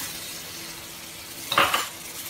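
A spoon scrapes and clatters against a pan while semolina upma is stirred over low heat, a quiet background with one short burst of metallic scraping near the middle.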